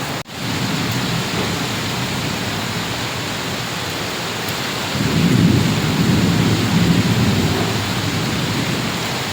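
Steady heavy rain and thunderstorm noise in Bhubaneswar, a broad continuous roar with a deeper rumble of thunder swelling in the latter half, no voices.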